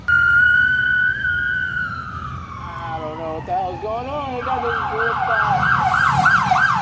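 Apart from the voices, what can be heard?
police car sirens of a funeral police escort passing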